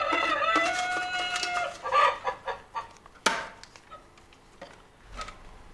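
Chickens cluck in a noisy cluster, a short rising squawk or crow near the start, then scattered clucks trailing off, close and fairly loud.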